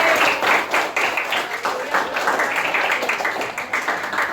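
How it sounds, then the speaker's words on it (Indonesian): Classroom applause for a teacher named Pak Kande, a dense, steady burst of many hands clapping close by for about four seconds, with no voice over it. "Tepuk tangan dulu buat Pak Kande"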